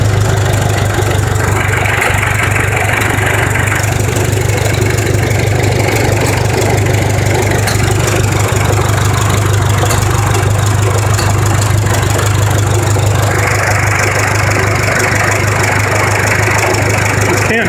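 A 1966 John Deere tractor, pulled from an abandoned farm and started for the first time in years, idles steadily and loudly up close with a constant low engine drone and rapid knocking throb throughout, no talk.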